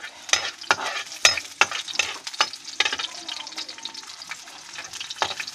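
Ginger and garlic sautéing in a hot pan, a crackling sizzle broken by repeated sharp scraping strokes of a spatula, close and uneven in rhythm, with no talking.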